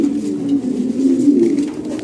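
Pigeons being handed over for delivery coo softly and continuously at close range, a low murmuring burble with no voices.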